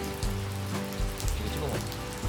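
Steady rain falls on a nearby surface on a rainy day, a dense continuous patter at even volume with a few dull knocks in the background.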